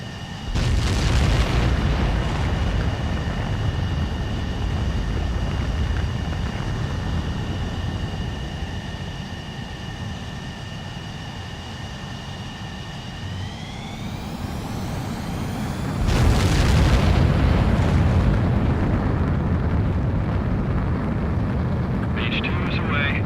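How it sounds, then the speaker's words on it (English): A fighter jet in the video game Ace Combat 7 takes off with a loud, steady engine roar and whine that climbs in pitch before a heavy surge of thrust, under radio chatter. "Mage 2, begin takeoff sequence."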